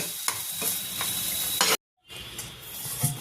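A spatula stirs chopped coriander into a paneer filling sizzling in a pan, with a continuous hiss, a few scraping strokes, and a brief cutout of silence partway through.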